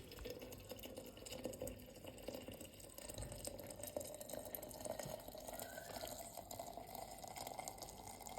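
Water poured over plums and apples in a pot or jar for compote, a steady close liquid splashing and trickling that runs without pause and with no talk.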